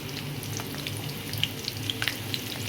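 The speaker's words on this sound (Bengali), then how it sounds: "এবার আমি পেঁয়াজ কুচিটা দিয়ে দিচ্ছি" Chopped onion hits hot oil in a pan for kakra bhuna, giving a soft sizzle with scattered crackles and pops, fairly quiet and close.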